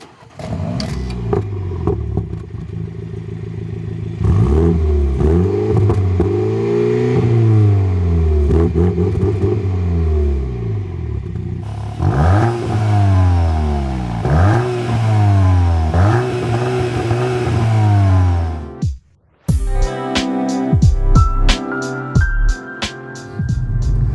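Volkswagen Golf GTI Clubsport and BMW 128ti hot hatches revving in turn, repeated rising and falling engine blips held loud and close, a brief gap near the end before sharper, higher revs resume.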